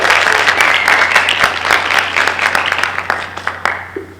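A panel audience at WonderCon breaks into loud, dense applause that gradually thins into scattered individual claps toward the end.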